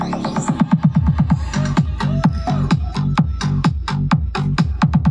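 Battle mix dance music pumped through a Joson Neptune integrated power amplifier, a fast driving beat with heavy repeated bass thumps and bright percussive hits, loud and continuous with no talking.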